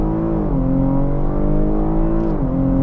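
A 2022 Cadillac XT5 with its 3.6-litre AWD engine pulls hard under acceleration, a loud steady drone whose pitch climbs and dips twice at gear shifts, heard from inside the cabin without talk.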